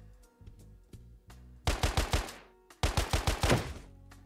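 AKM Custom rifle in a Minecraft guns mod firing two rapid bursts of about five to six sharp shots each, loud and close, preceded by a few lighter mechanical clicks, with no talking.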